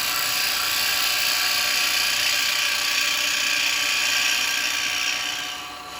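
Wood being chamfered on a woodturning lathe while making a jewellery box from mixed woods: a steady, loud, bright whirring scrape that holds evenly for several seconds before easing off at the end.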